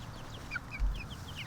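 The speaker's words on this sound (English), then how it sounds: "The young chickens came out into this tunnel and now they're exploring." Young chickens and hens cluck and chirp softly in an overgrown food-forest tunnel, with a few faint, scattered calls over a low outdoor background.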